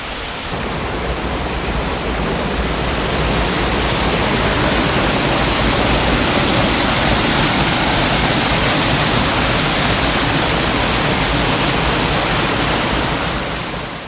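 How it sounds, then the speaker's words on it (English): A waterfall on a winter backpacking trail at Dolly Sods roars as a loud, steady broadband rush that fills the whole stretch with no pauses and no voices. "We finally walked upon a beautiful waterfall."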